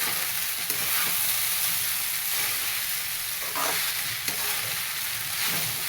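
Onions and flattened rice for kanda poha sauté in a pan, a steady close sizzle with occasional soft scraping stirs throughout and no speech.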